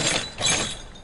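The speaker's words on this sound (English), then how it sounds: "The first sound we had was the glassy kind of sound." A short glassy, bright shimmering sound effect, two brief swells of high clinking texture that fade out, heard alone.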